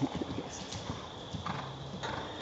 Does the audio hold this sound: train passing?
no